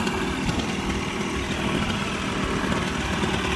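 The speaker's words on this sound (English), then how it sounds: "riding the buggy" A four-wheeler buggy engine runs steadily in the Kuwait desert, a loud, continuous motor drone close by with no talk over it.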